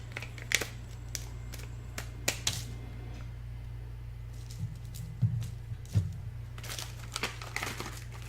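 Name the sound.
scissors cutting open crinkly snack packaging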